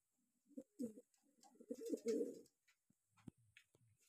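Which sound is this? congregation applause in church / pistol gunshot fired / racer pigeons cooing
racer pigeons cooing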